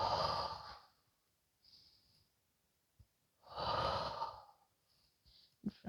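Yoga breathing with slow exhales during a guided practice: two long, close breaths a few seconds apart, with faint sniffs between them and no talking.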